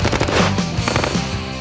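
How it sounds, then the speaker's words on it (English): A rapid burst of loud gunshots, several sharp reports in quick succession with ringing echoes, close and dense, with no talk. "The barrel remains right on target, whether or not he's shooting."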